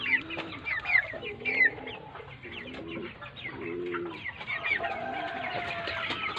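Broiler chickens on a farm cluck and murmur continuously, a close flock with overlapping low coos and clucks and occasional sharper calls, with no talk.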